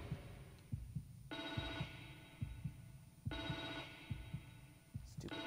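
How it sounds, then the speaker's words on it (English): A walkie-talkie rings in The Evil Within 2, two long electronic ring bursts over a low throbbing heartbeat-like pulse and hum in the game's ambience, with no talking. "It's a walkie-talkie."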